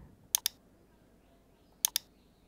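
Computer mouse clicking in two quick double-clicks about a second and a half apart, crisp and close against a quiet background.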